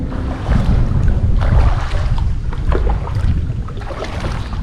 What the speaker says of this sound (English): As we make our way under the bridge, we are going to be hitting full on into the wind.